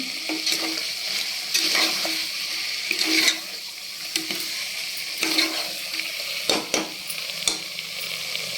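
A masala of ginger garlic paste sits in a pan on a low flame for a chicken fry biryani, giving a soft bubbling sizzle with a few louder scrapes and stirring knocks, and no voices.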